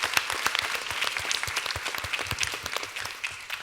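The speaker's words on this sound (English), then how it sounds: "just one more round of applause for the panel" A conference audience applauds a farming panel in a dense, steady burst of clapping from many hands, close and lively for the whole stretch, with no voices over it.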